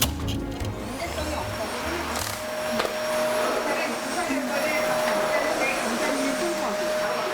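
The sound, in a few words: vacuum cleaner running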